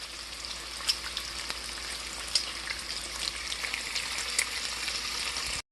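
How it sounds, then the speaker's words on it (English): Bacon sizzles and crackles steadily in a cast iron skillet at breakfast, a dense hiss with scattered sharp pops, continuous until it cuts off abruptly at the end. "we're starting off by cooking bacon"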